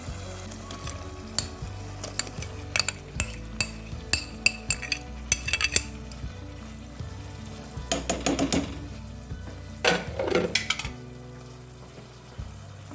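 A spoon stirring mashed yellow potatoes with melted tomatoes in a hot pan: repeated scraping clinks and soft squelches over a steady sizzle, with a few busier bursts of stirring, close and clear without speech.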